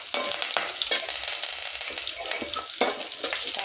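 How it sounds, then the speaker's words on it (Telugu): Tempering sizzling and frying in a pan for ridge gourd (beerakai) curry, a dense continuous crackle with repeated stirring scrapes, close and fairly loud, with no talking. "ఇదిగోండి బాకీ తాలింపు వేసేస్తున్నాను"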